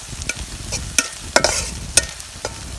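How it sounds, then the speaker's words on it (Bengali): Sliced onions fry in oil until brown to make beresta for haleem, a steady close sizzle punctuated by sharp scraping clicks of a spatula stirring the pan. "পেঁয়াজগুলো এখন আমি বাদামি করে বাইজে নিয়ে উঠাবো"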